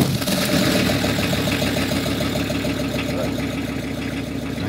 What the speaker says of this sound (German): Der Bus läuft.